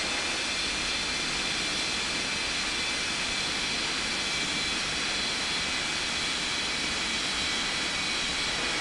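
Steady, loud roar of a jet airliner engine spooling up for takeoff in the mobile air traffic control game Unmatched Air Traffic Control, a continuous broadband rush with no voices.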